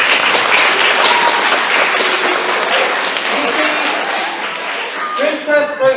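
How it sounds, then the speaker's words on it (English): A live audience gives a round of applause for a young girl playing a princess at a children's storytelling session, dense steady clapping throughout with a few brief voices toward the end. "Let's have a round of applause for Princess Sophie."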